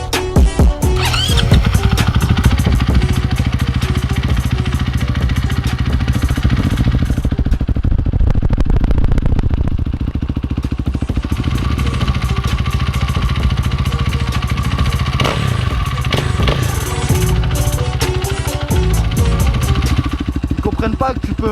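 A motorcycle ridden during wheelie practice roars loudly and close, its engine revving and surging in long pulls with rough, clattering texture, and voices occasionally heard over it.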